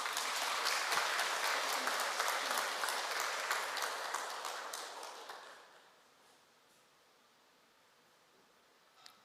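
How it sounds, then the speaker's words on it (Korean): A congregation applauds during a Won Buddhist temple sermon, a soft, even round of clapping that fades out after about five seconds, leaving quiet room hush and a faint tap near the end. "박수 한번 치세요."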